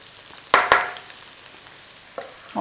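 Dried chillies are tossed into a hot wok for a beef black bean stir fry. Two sharp sizzling bursts are followed by a quieter hiss, then more brief sizzles at close range.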